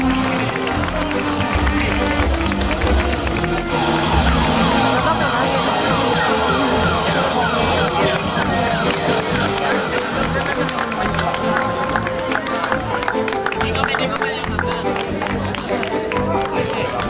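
A crowd applauds a local cycling team at a race stage of the V Memorial Antonio Miguel, with sustained loud clapping and cheering running steadily for the whole stretch alongside an announcer's amplified voice.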